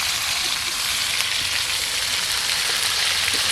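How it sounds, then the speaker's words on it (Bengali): Chicken pieces frying in plenty of oil for a village-style red country chicken curry, a steady close hissing sizzle with faint crackles and no talk. "মাংসটাকে ভালো করে ভাজা হয়ে গেছে"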